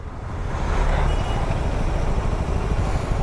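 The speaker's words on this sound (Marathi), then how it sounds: "लय ट्रॅफिक आहे यार." Jammed traffic on the Mumbai–Goa highway makes a steady, dense rumble of idling trucks, buses and cars, close and continuous with no clear voices.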